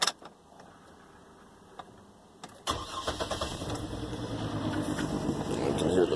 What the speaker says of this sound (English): we're going to go ahead and give her a start here